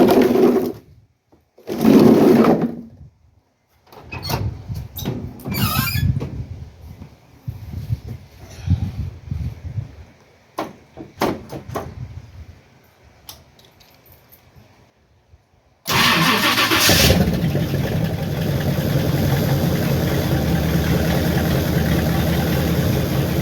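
A Ford Thunderbird cranks with a couple of short starter bursts and clattering attempts, then catches and settles into a loud, steady idle that runs on unbroken.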